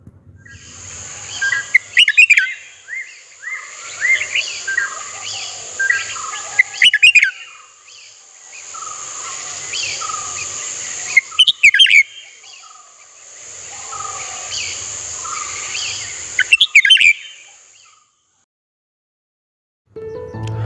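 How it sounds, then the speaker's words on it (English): A red-whiskered bulbul calling, with four bursts of bright, chirpy whistled phrases spaced about five seconds apart against a steady high insect-like hum. The calls are close and clear, with no talk. "Call of red whiskered bulbul."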